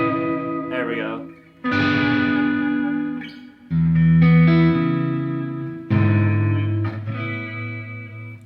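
Sustained lead notes from a Music Man electric guitar with heavy distortion and chorus, echo trailing off each phrase; a few long held notes played alone, loud and close.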